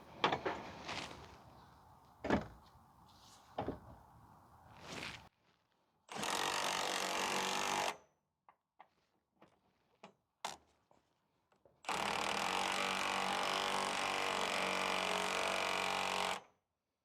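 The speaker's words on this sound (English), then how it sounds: "So now I drove the bolts in." A power tool drives bolts to mount a tow hitch on a Pontiac Vibe or Toyota Matrix, with two sustained whirring runs of a couple of seconds each, separated by sharp knocks and clanks.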